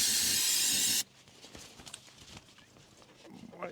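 Brake cleaner hisses from an aerosol can onto a rag during a John Deere backhoe fuel pump repair, a loud steady spray lasting about a second, then quieter handling noises and faint movement.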